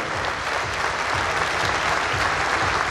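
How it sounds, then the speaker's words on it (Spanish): A large crowd at an evening event applauds loudly and continuously, a thick, even roar of clapping with no break throughout. "le vamos a pedir un aplauso grande"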